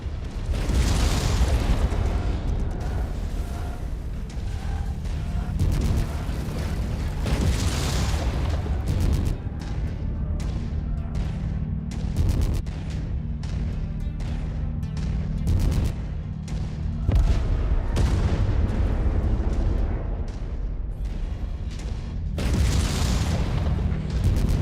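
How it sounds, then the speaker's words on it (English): Missiles explode in the MechWarrior 5 video game: loud, heavy booms and bursts go off repeatedly over a continuous rumble of mech combat, with several sharp blasts spaced irregularly throughout. "My missiles are kind of weird because they just go a certain range and explode."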